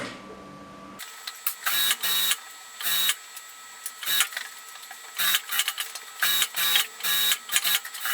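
A sewing machine stitches a border strip onto a dish towel in short, rapid mechanical bursts separated by brief pauses, close and clear, starting after a quiet moment.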